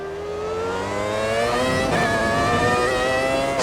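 A 1997 McLaren F1 race car engine in a racing video game, its power restricted, drones steadily and climbs smoothly in pitch as it accelerates, loud and constant with no talk over it.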